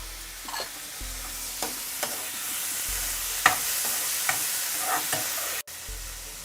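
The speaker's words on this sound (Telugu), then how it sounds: "ఇప్పుడు టమాటా వేస్తున్నానండి" Tomato pieces fry with a steady close hiss in a curry pan for an old-style raw banana and mango curry, with repeated scraping stirs and clinks across the clip; no voices.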